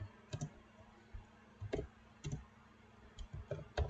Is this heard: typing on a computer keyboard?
yes